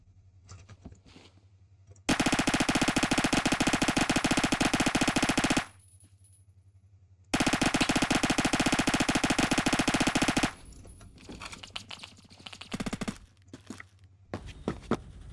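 Automatic rifle fire in the first-person shooter game Phantom Forces, two long loud sustained bursts of rapid shots separated by a short gap, followed by scattered footsteps and softer game noise.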